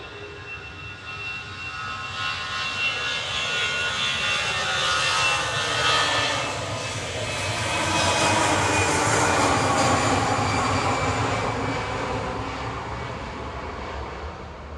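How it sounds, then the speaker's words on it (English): Iberia jet airliner, departing to Madrid, taking off from Manchester Airport in the evening: a loud, sustained roaring rumble with hissing turbine whine that swells and shifts as it passes, heard from outdoors. "Iberia 1892 now, departing back to Madrid."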